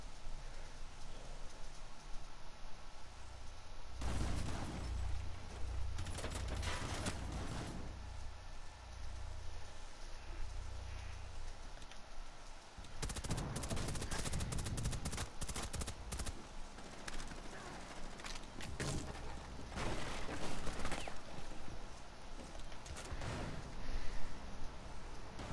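Gunfire in Rainbow Six Siege comes as fairly quiet volleys and scattered shots, with bursts clustered in the middle and later stretches over a steady game background.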